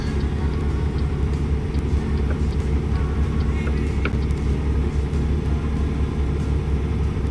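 Heavy truck engine labouring in American Truck Simulator, a steady deep rumble that holds continuously at high level with no pauses, with no talk over it.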